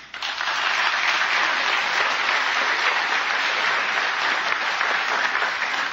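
An audience at a presidential debate gives a strong, sustained round of applause, a dense, even roar of clapping that swells quickly and stays loud throughout.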